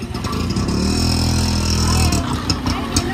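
A car engine revs and hums close by while the vehicle turns and reverses on a road, a loud continuous drone that shifts in pitch, with faint voices in the background.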